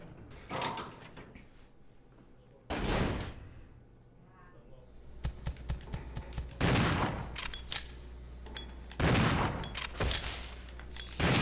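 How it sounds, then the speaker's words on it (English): Shotgun blasts fired at a bug in the survival horror game Resident Evil 0, three or four loud booming shots spaced a few seconds apart, each with a ringing tail, over low ambient hum. "there's a bug here, so we're gonna put it down with a shotgun"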